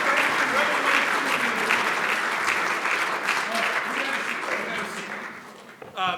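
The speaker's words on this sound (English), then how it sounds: "stand up and give Kathy, Gerard, GBA Global, everybody a quick round of applause" A standing conference audience at a morning session on money, governance and law gives a loud, dense round of applause that holds steady, then tapers off near the end as a voice briefly rises.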